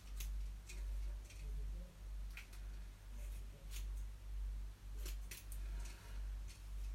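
Scissors cut through long hair in a steady series of soft, close snips, evenly spaced about every half second over a low constant hum.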